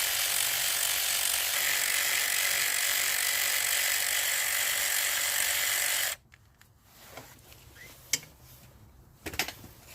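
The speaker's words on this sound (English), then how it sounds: "I'm just gonna remove these two bolts" A power tool removes bracket bolts during clutch work on a 2018 Subaru WRX, whirring steadily and close for about six seconds, then stopping, followed by a few sharp metallic clicks and clinks.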